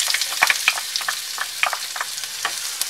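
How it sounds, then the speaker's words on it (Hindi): Cumin seeds and onions sizzle and crackle in hot oil in a pan, a steady close frying hiss with scattered sharp pops and stirring sounds. "ऑयल मेरा गर्म हो गया है, अब मैं इसमें जीरा ऐड कर दूंगी। जीरे को हल्का सा तड़कने देंगे।"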